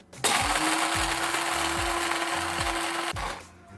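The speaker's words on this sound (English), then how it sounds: "And now we're gonna do a coarse grind." An electric grinder coarsely grinds coffee beans for cold brew, a loud continuous whirring hum with a rattling, ratchet-like crunch pulsing at a regular beat, starting abruptly and cutting off after about three seconds.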